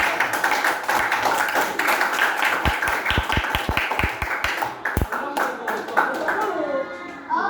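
A class of students clapping hands in a classroom lesson, a burst of sharp individual claps with some quick in-unison slaps, under steady children's chatter and talk, trailing off as a voice continues.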